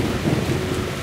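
Steady rain with a low thunder rumble fills a Metro: Last Light Redux game scene, a dense continuous wash of noise with no voices.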